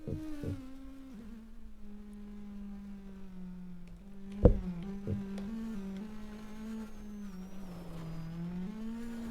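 A rally car in Shakedown Rally drones along a Swedish gravel stage, its engine holding a steady tone that dips and rises through shifts, with a sharp knock midway.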